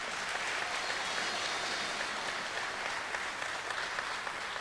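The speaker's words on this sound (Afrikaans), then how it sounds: "Nou kan julle vir hulle 'n hande klap gee" Steady applause from a church congregation at an Afrikaans Christmas-season service fills the whole stretch as a dense, even wash of clapping with no break.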